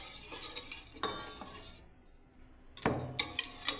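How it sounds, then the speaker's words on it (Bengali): Sattu being mixed by hand in a bowl: soft scraping and rubbing sounds come in short bursts with a quiet pause in the middle, close by and faint. "দেখুন বন্ধুরা আমি এরকমভাবে ঘাঁটতে থাকছি"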